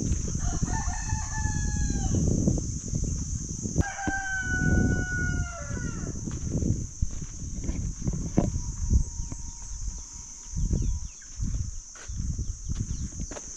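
A rooster crows repeatedly in a hill-tribe village near Chiang Rai, Thailand, two long clear crows in close succession followed by fainter distant crowing, over a steady insect drone and scattered low rustling.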